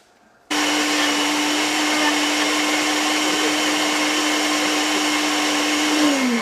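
Kitchen blender whirring through pieces of cassava with a little water, starting abruptly after a brief quiet moment and holding a loud, steady motor drone that dips slightly in pitch near the end.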